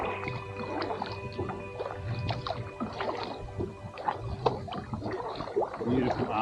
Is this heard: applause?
no